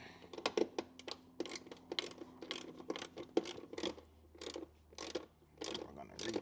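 A ratchet clicks in quick, close bursts while retightening a car door check strap, with soft rubbing and handling noises between strokes and a faint hum beneath.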